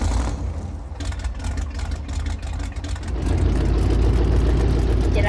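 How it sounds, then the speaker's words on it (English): A monster truck engine in Farming Simulator 22 idles and then revs up, a loud, continuous low rumble that grows stronger and steadier partway through. "we're going to go for the monster truck."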